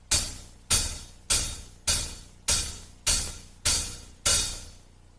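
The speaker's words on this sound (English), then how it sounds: "And that's straight quarter notes." A drum kit plays straight quarter notes: eight evenly spaced, loud full-band hits, each with a sharp attack and a ringing cymbal-like decay. The kit is heard alone with a steady tempo.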